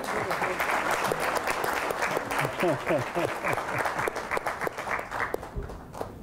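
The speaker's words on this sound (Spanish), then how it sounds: "Un aplauso también para Juan Pablo." An audience at a talk on financial fraud applauds as Juan Pablo comes forward to receive a prize. Steady, dense clapping runs for several seconds and thins out toward the end, with some voices underneath.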